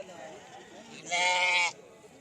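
A single loud, nasal sheep bleat lasting about half a second stands out over quiet background chatter and crowd murmur at a Friday livestock market in Talagang, Punjab, with sheep, dumba rams and goats.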